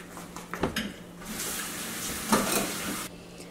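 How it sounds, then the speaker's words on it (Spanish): Chicken a la diabla sauce is stirred in a pan, with a soft simmering sizzle and a few clinks and scrapes of a utensil against metal, close and without talk. "Aquí lo que vamos a hacer, vamos a revolver."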